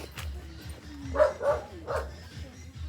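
Big dogs barking in a rural Indang, Cavite setting, three or four loud, close barks in quick succession, with people talking over them.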